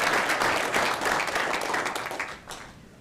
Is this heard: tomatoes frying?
no